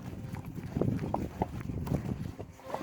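Arabian horses' hooves clip-clop steadily on a horseback ride through Cappadocia, a soft, even rhythm of hoofbeats heard close by under a wash of outdoor background noise.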